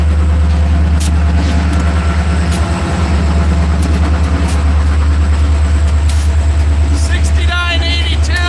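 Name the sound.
CSX freight trains meeting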